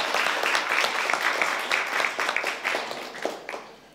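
Audience clapping at a state governor's press briefing, a steady burst of many hands that gradually thins and fades toward the end.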